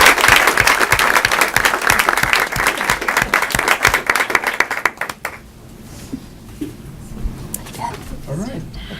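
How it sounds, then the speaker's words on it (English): Audience applause at a board of education meeting, a dense burst of clapping from a room full of people that fades out after about five seconds, leaving quiet room noise. "one more round of applause"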